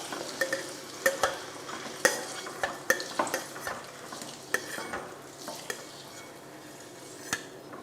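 Eggs fried in oil and stirred in a pan, with a constant crackling sizzle punctuated by a dozen or so sharp clacks of a spatula or spoon against the metal at an uneven rhythm, up close.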